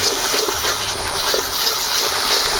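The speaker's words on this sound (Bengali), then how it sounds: "দিয়ে দিব সামান্য জল" A little water is poured into a chicken and potol curry over fried spices, a steady close gushing splash that continues without pause.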